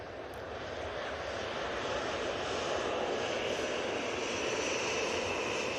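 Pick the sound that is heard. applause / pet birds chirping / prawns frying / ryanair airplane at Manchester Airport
ryanair airplane at Manchester Airport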